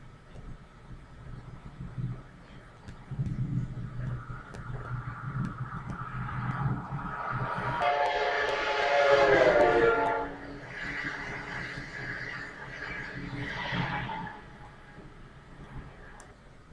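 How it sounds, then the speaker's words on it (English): A train approaches and passes, growing louder with a horn-like tone that drops in pitch as it goes by, then fades into rumble. "This is a video of a train."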